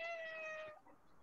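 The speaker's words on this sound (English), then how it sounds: "That's my cat." A house cat lets out one drawn-out, tonal meow close to the mic, fading into quiet room noise after under a second.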